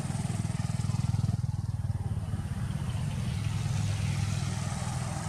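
Steady low engine drone of cars and motorbikes passing on a nearby road, a continuous rumble that swells slightly at the start and holds throughout with no speech.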